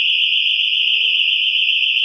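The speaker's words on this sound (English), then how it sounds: "Well, that's what the alarm sounds like." A loud, piercing electronic house break-in alarm tone sounds continuously at close range early in the morning, unbroken and steady throughout.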